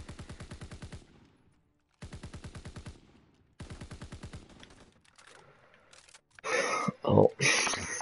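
Automatic gunfire from a shooting video game comes in three rapid, evenly rattling bursts with short gaps between them, followed by louder, rougher noise and voices talking.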